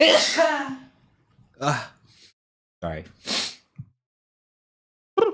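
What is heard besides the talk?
sneeze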